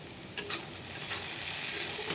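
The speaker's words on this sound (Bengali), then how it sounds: "আর একটু ভেন্ডি ভাজা এটা হচ্ছে" Okra (bhindi) frying in a pan, a steady broadband sizzle with occasional stirring scrapes, close and even throughout with no talk.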